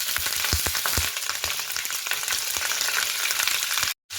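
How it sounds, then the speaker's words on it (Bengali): Cauliflower florets fry in hot oil in a pan, giving a steady close sizzle broken by soft clinks from a stirring spoon. The sound cuts out briefly near the end. "এরপরে ফুলকপিগুলোকে খুব ভালো করে ভেজে নিচ্ছি।"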